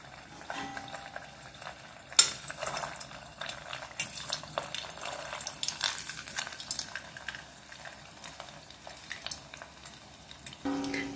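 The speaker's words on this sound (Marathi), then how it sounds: "तर चला आपण वडे तळूया" Fasting-style medu vada batter frying in hot oil, with a gentle crackling sizzle, intermittent scrapes and clinks of a spoon or ladle against the pan, and a sharp clack early on, close and fairly quiet.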